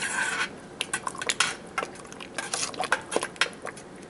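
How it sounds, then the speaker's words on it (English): A spoon stirs sugar into tomato soup in a pot, giving several light scraping clinks against the metal at an uneven rhythm, close and fairly quiet, with no talking. "Stir that in, make sure it's dissolved really good"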